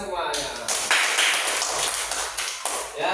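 Schoolchildren in a third-grade Islamic religious education class clap together in a dense, steady burst of applause lasting a few seconds, close and loud, with voices mixed in.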